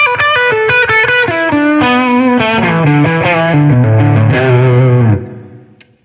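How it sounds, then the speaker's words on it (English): An electric guitar at maximum gain on the bridge pickup plays a fast run of loud, heavily distorted notes, then a thick sustained chord that fades away at the end. "That's probably maximum gain for me if I put it on the bridge pickup."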